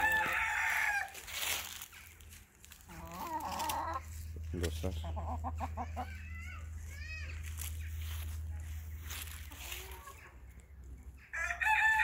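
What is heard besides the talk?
roosters crowing and chickens clucking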